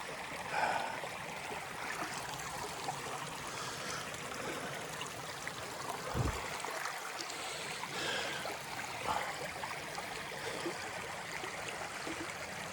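Ice-cold water flows in a mountain stream along the Appalachian Trail, a steady close rushing and trickling with a brief low thump partway through and no talk.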